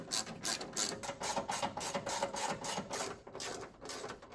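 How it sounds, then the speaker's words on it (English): Ratchet wrench tightening the fan shroud bolts on a 1978 Chevrolet Monte Carlo, a quick series of close, crisp clicking bursts repeating in an even rhythm, no talking. "With that tightened down, now I can fasten the fan shroud."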